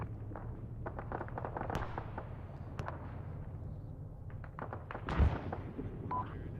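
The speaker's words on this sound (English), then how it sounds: "Are those airburst missiles?" Airburst missile explosions in the video game Arma 3: scattered sharp cracks and pops at middle distance over a low background hum, with one heavier thump near the end.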